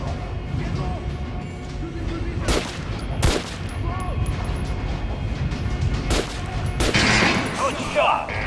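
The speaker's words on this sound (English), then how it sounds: "Try shooting for the center of the regular dummy's chest" Gunfire aimed at training dummies in Metro Last Light: several sharp shots cut through a dense, steady backdrop of game ambience and voices, with bright metallic ricochet sparkles near the end.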